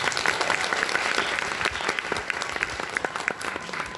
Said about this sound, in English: How about a huge round of applause for Muslim Aid for putting this evening together?